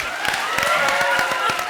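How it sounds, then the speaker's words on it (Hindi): Audience applause on the stage of a comedy show, a dense, steady patter of many hands clapping close and fairly loud for nearly two seconds, with faint voices mixed in. "तो जोरदार तालियां बजाओ दिल के लिए"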